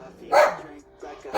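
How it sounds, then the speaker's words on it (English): A dog barks in two short bursts, close by and fairly loud, with brief quiet between them. "It's my dog."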